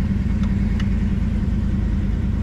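A 1968 Chevelle SS idles with a steady, deep, rumbling exhaust, close and loud, holding an even tone without revving for the whole stretch.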